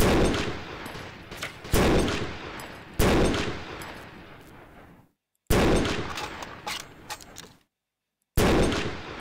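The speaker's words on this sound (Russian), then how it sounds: "Пулеметы." Machine gun fire in a video game, with loud bursts of rapid gunfire cutting in and out in several separate volleys. Each burst decays into an echoing tail, and brief dead silences fall between some of them.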